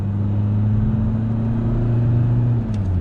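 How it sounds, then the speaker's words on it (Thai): An Isuzu D-Max 1.9 Hi-Lander four-door raised pickup with 150 horsepower accelerates at full throttle at night. The engine drones loud and steady from inside the cab, with a low rising hum and road rumble, and no talk. "เนี่ยนี่คือเหยียบสุดเต็มร้อยเลย"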